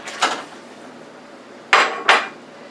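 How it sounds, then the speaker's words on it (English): A pound of cut-up beef goes into a stew pot with three sharp, close metallic clanks, one early and two in quick succession later, separated by near silence. "I have a pound of cut up beef. I'm going to put that in there"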